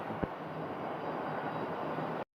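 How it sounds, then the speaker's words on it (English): Envoy regional airliner on its landing at Phoenix Sky Harbor airport, a steady broadband jet roar holding at even loudness throughout, with one brief thump near the start. "Envoy 3902 is this aircraft. Landed from San Luis Obispo, California."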